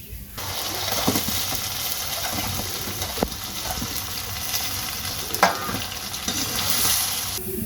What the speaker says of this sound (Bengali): এখন পাতি কাঁকড়া রান্না করবো